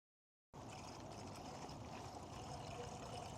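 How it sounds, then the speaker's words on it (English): Coolant drains from a Mercedes-Benz GLA 250 in a steady, continuous splashing stream that begins abruptly and runs on, fairly quiet and close. "We're going to drain the coolant that I've already got from the first flush."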